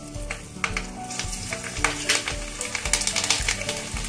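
Bay leaf, dried red chillies and garlic hit four spoons of hot oil for chicken biryani, giving a loud, busy sizzle with crackling pops and the clatter of a spoon stirring the pan, close up and without talk.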